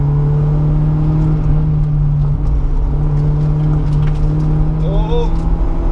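A car's engine drones loudly and steadily from inside the cabin during an autocross slalom run, a sustained whirring tone under the throttle with a brief pitch sweep near the end.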